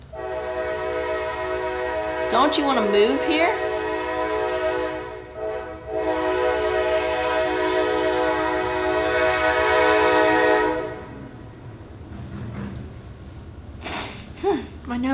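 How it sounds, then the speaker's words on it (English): A train passes close by, its horn sounding one long, loud, steady blast that holds for several seconds, then pauses and returns before fading, while people talk over it. "Can you hear that train?"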